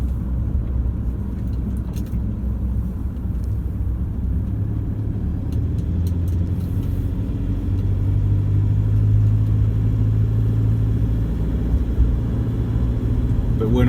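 A 2014 Toyota Hilux diesel with 111k on it runs steadily, giving a continuous low, close engine rumble that swells slightly partway through, with faint talk over it.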